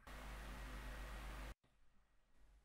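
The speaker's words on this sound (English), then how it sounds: "I have a fan running in the background and there is probably some hissing coming from my microphone as well." A room fan runs steadily with microphone hiss, a broad, even wash of noise that cuts out abruptly partway, leaving only a faint residual hiss.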